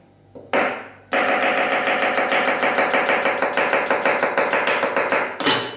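A knife chops an onion on a cutting board for a British Indian restaurant-style base gravy, with rapid, steady blade strikes running close and loud for several seconds after a couple of opening cuts.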